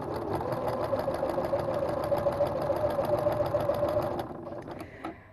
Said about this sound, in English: we're going to sew this all the way down with a 1/4 inch seam allowance.